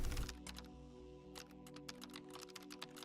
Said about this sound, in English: I'm just randomly hitting keys on my keyboard at this point